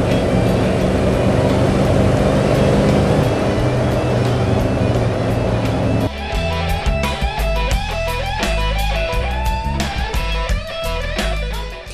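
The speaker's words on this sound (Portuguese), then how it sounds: "Motor forte, hein? Olha só o rombo dele." A 1971 Plymouth Satellite engine roars loudly while driving, a deep sustained rumble that shifts midway into a lower, throbbing tone with rhythmic pulsing, heard close from inside the car.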